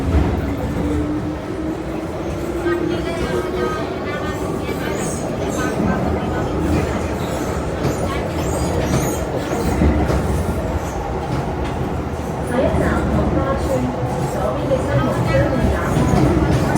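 MTR Island Line M-Train running between stations in Hong Kong, a steady loud rumble of wheels on rails with clickety-clack beats and a faint squeal, lasting throughout.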